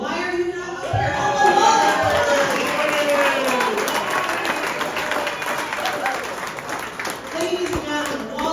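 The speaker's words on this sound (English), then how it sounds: "Please give them a big round of applause" Applause from an audience at an election-night gathering for a Chicago ward alderperson, sustained dense clapping with scattered cheers, mixed with voices talking and calling out over it.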